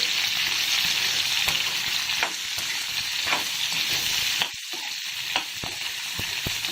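Cut okra sizzles and crackles steadily in hot oil with cumin, a continuous frying hiss broken by sharp utensil taps and stirring scrapes near the end, with no voices.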